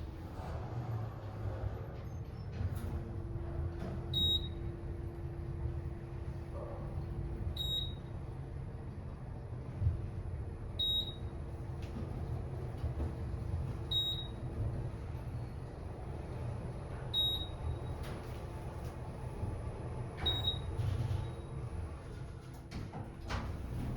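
An Otis Gen2 elevator car with 3,500-pound capacity in a parking garage in Medford, Oregon hums steadily as it travels, with short high beeps at regular intervals of a few seconds.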